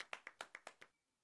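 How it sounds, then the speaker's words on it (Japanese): Sparse applause in the handball pelota video game after the opposing side scores: about seven evenly spaced, crisp claps that fade out within a second, then quiet. "敵が点数入ったら、拍手小さすぎ？"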